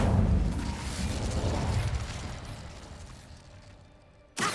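Incendio fire spell in Hogwarts Legacy: a roaring fiery blast at the start that gradually fades away, followed by a short sharp burst near the end.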